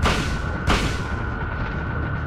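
A gunshot in the Silent Hill video game overworld, two sharp, loud broadband bursts in quick succession, each followed by a noisy tail under a steady tone.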